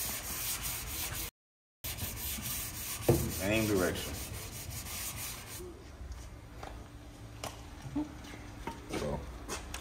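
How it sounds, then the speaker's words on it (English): Repeated rasping strokes of 320-grit sandpaper rubbing a Box Chevy car body by hand, steady and close, with a brief spoken remark partway through. "I'm about to finish sanding this 320"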